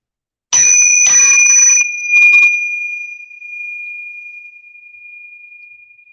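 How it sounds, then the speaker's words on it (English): A bright metal chime is struck a few times in quick succession, then one clear high tone rings on and slowly fades to near silence over several seconds, alone in a quiet room. "if I listen to the beginning of the chime all the way until it disappears to where my earth ears can no longer hear it"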